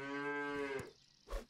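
Cow moo in the pet battler game Super Auto Pets, a long, loud, tonal bellow that cuts off, followed by a brief thump.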